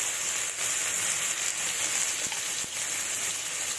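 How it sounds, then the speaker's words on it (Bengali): Small cut potato pieces frying in hot oil with a pinch of salt, making a continuous, even sizzling hiss at close range with no talking. "আলুগুলো তেলের মধ্যে ভেজে নেব"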